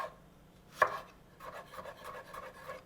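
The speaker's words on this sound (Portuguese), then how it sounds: "Cortar então primeiro em tirinhas e depois a gente corta em" Knife chopping fruit pulp into cubes on a cutting board: one sharp chop followed by a run of quicker, softer cuts, close and clear with no talk.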